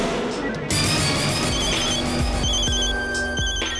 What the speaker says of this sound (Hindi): ये सेल कहाँ बज रहा है?